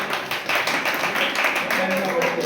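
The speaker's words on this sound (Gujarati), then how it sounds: "વિનરમાં એકવાર તાળીઓ થઈ જાય ભાઈ" An audience applauds the two winners of a couples' guess-your-wife's-voice challenge grand finale, with a steady, dense clapping wash that runs through the whole moment while a voice talks over it.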